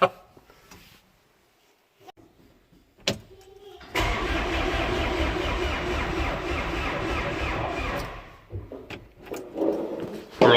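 A spray coupe aircraft engine is cranked by the starter for about four seconds, a loud rhythmic churning that fails to catch and then stops, with clicks and handling noises before and after.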